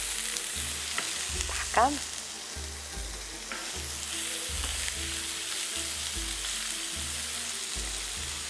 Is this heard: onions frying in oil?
yes